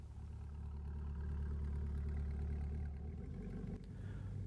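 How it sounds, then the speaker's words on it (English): A mid-engine C8 Corvette fitted with a Hooker Black Heart catback exhaust idles close by, a deep, steady low rumble with a faint mechanical clatter, holding even for a few seconds before dipping slightly. "The Hooker Black Heart catback exhaust systems give the mid-engine Vette the sound it deserves"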